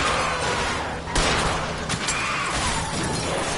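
Gunfire from a car chase in the video game L.A. Noire, with a sharp shot near the one-second mark standing out over a constant roar of engine and street noise.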